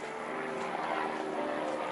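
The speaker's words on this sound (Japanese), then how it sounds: "上空の方でヘリコプターの音が聞こえますね。" Helicopter passing overhead at Fox Glacier, New Zealand, heard as a distant, steady droning whir high above, faint and continuous for under two seconds with no talking.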